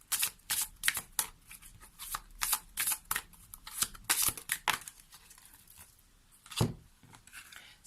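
Tarot cards are shuffled and drawn by hand, giving quiet, close, irregular riffling and slapping bursts with short pauses between them.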